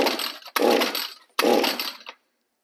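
Two quick, harsh pull-start bursts from a small two-stroke engine, off choke, each a loud ratchety whir lasting under a second, separated by a short pause.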